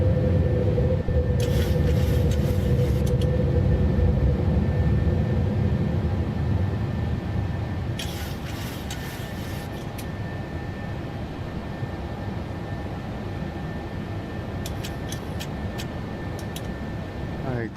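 A PMDG 737-800 jet climbing after takeoff in MSFS 2024 produces a continuous broad engine roar with a steady whine, loud at first and easing slightly, interrupted by short bursts of crackling radio-like static.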